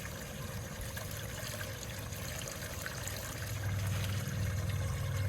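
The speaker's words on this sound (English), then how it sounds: "See my fountain, my Tetra fountain filter going strong." Tetra fountain filter splashing water into an outdoor tub pond with water hyacinth, a steady close trickle and patter that swells slightly louder toward the end, with no talking.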